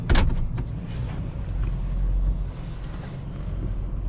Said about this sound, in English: let's go for a quick drive, just kind of get on some level ground and see what it does